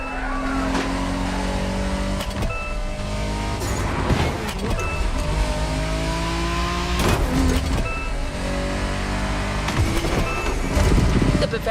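Engine of a BMW Z4 M40i roadster in the Crew Motorfest racing game, a steady drone with rising and falling revs running under a voice that talks throughout.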